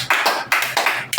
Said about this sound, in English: So clap for yourself. And clap for all the careers.